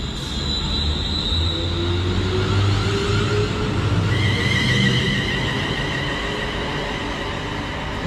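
British Rail Class 350 electric train at a station platform, a continuous mid-distance rumble with rising and falling motor whine tones, no voices.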